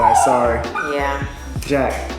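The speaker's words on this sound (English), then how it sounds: "that's our dog" A dog barks and yips close by in short bursts, mixed in with people talking over it.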